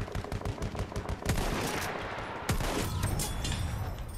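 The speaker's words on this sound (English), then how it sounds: "Look out! Machine gun!" Machine gun fire in Battlefield 1, a rapid rattling stream of shots with a couple of heavier booms, fairly loud and continuous throughout.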